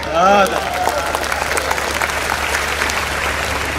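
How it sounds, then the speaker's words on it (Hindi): A poetry recital audience at a Hindi kavi sammelan gives a sustained round of applause, loud and fairly close, with a short burst of voice at the start before the clapping carries on steadily. "तालियां कमजोर थी।"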